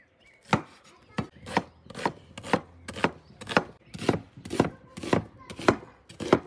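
A knife chops onions on a cutting board in about a dozen even, crisp strokes, close and distinct with brief pauses between them.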